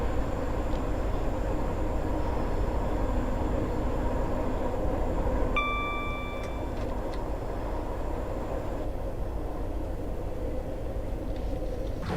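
Steady train rumble and rolling wheel noise from a train simulator game on the run toward Victoria, continuous and fairly loud throughout, with a brief high tone partway through.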